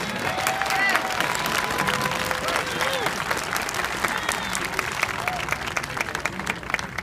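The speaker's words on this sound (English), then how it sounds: "Give Ms. Wentworth a round of applause." A crowd applauds a poet at an MLK event at a statehouse, sustained clapping with some cheering and faint voices over it, steady and full for the whole stretch.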